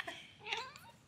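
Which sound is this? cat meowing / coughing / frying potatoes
cat meowing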